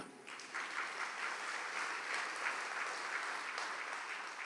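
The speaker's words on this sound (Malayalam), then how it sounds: "ഒന്ന് കൈയുയർത്തി കൈയടിക്കുക." A church congregation claps hands together during a prayer service, a steady, dense wash of many people applauding at a moderate distance, continuing through the whole stretch without speech.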